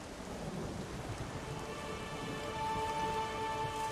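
Thunderstorm with heavy rain in The Witcher 3: Wild Hunt, a constant dense rain hiss with low rumbling thunder underneath, joined near the end by a thin sustained tone, with no voices.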